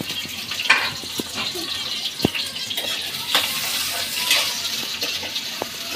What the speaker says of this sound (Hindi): ऑयल हो गया गरम, इसके अंदर में डालूंगी ढेर सारी काटे मैंने प्याज।